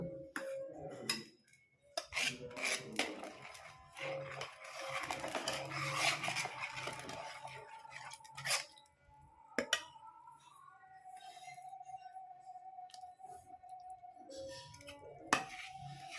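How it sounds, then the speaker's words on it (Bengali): A spoon clinks and scrapes against a bowl as rice flour is stirred little by little into warm water for chitoi pitha batter, with irregular close clattering taps followed by a quieter swirl and a few knocks. "এবার আমি অল্প অল্প করে এর মধ্যে চালের গুঁড়ো দিয়ে দেব আর মিলিয়ে নেব।"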